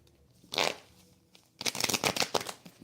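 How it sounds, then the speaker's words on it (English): Tarot cards being shuffled by hand, a brief riffle followed by a longer stretch of dense papery flutter and slaps, close and fairly loud with no talking. "Let me just shuffle these cards a little bit"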